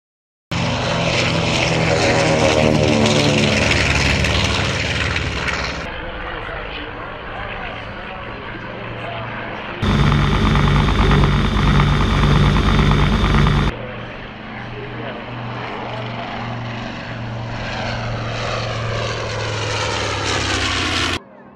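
Engines of a B-25 bomber drone loudly and continuously in flight, a heavy propeller roar that shifts in tone and swells louder for a few seconds midway through.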